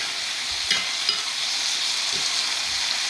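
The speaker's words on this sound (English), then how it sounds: "You put your tomatoes in there and just mix it a little bit." Tomatoes being stirred into a hot pan with cashews, a close continuous sizzle with a few scraping stir sounds, alone and without talk.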